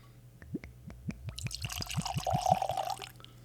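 Bourbon glugs from a freshly opened bottle, the 500th in a collection, with a run of rhythmic gurgling pulses that merge into a steady close pour splashing into a glass.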